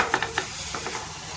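Pea paste masala frying with potatoes and vadi for matar ka nimona, soft steady sizzling with a few quick scraping stirs near the start, close and without voices.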